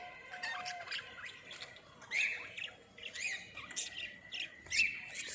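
Budgies and doves in a walk-in aviary chirp and give sharp, scattered squawks at a fairly low level, with several calls overlapping against a quiet background.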